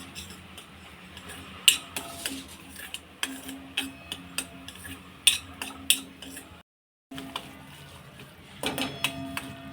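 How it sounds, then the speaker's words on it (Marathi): Semolina dry-roasting in a pan over medium heat, with repeated light scrapes and clinks of a spatula against the metal over a faint background hum, brief silence midway, fairly close and quiet. "मध्यम आचेवरती हा रवा आपल्याला भाजून घ्यायचा आहे"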